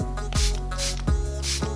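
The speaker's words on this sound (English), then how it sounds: "let's just go ahead and just spray it" A skincare face mist pump sprayer fires three quick, evenly spaced hissing spritzes close up, each a short breathy burst over a low steady hum.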